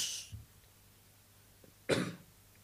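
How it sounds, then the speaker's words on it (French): A single sharp cough rings out after a brief faint sound, close and fairly loud against a quiet background. "La toux."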